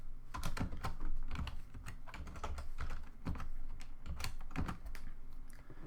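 Rapid, uneven keystrokes on a computer keyboard while code is typed, close and clear, with bursts and short pauses throughout and no talking.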